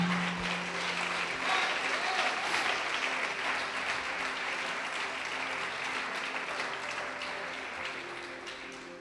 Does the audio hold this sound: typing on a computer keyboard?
no